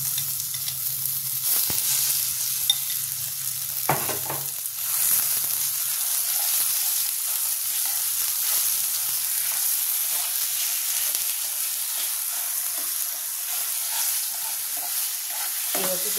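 Shrimp paste frying in oil with a little asafoetida in a pan, a soft continuous sizzle with a few scraping stir strokes near the start, steady and fairly quiet throughout.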